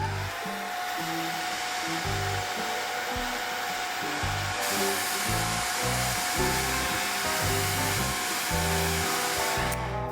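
A hair dryer runs continuously to dry a watercolor pencil painting, a loud, steady close whoosh with a faint rhythmic flutter beneath it, lasting the whole stretch.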